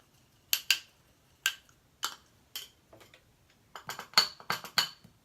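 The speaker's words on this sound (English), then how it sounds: "The honey is what makes it take a while to mix" A clay face mask is stirred with manuka honey in a small dish, giving sharp, light clicks and taps of a utensil against the container in irregular bursts, close and fairly quiet with no talking.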